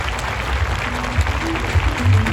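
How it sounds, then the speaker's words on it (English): An audience applauds children after a school show, a steady wash of clapping from a crowd with a few louder bumps toward the end. "So last round of applause for our dear children."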